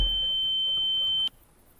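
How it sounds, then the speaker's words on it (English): Steady high electronic tone from an EMF detector in a ghost-hunting video game, holding for about a second before cutting off sharply, with no talk over it. "There's an EMF detector."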